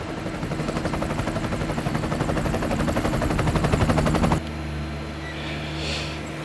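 A helicopter filming a rally stage during the 2012 WRC Monte Carlo round, its rotor making a loud steady chop that builds for about four seconds and then gives way to a duller, quieter rumble.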